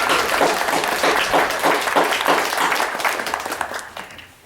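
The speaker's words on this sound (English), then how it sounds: "Let's give her a round of applause for" A room full of people applauding a newly elected chief at a First Nation oath of office ceremony, dense steady clapping that fades out toward the end.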